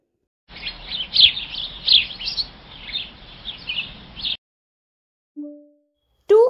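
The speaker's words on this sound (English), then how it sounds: "Sparrow." A sparrow chirps rapidly and continuously for about four seconds, bright and close, over a soft background hiss, then falls silent before two brief tones.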